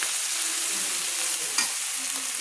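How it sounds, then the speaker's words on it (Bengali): Ground chili, cumin and turmeric fry in hot oil with a close, steady hiss and sizzle, broken briefly by a stirring scrape. "দিয়ে আমি ভালো করে আমি গুঁড়ো মশলাগুলো কষিয়ে নিচ্ছি"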